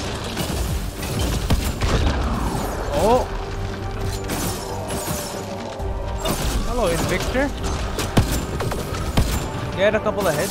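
Gunfire and combat effects in Mass Effect Andromeda, a steady loud mix of shots, booms and mechanical noises with scattered pitched sci-fi tones, while a person talks over the action.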